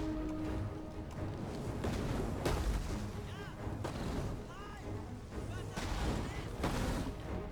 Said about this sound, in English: if I fire on their artillery, it'll do damage to their troops in general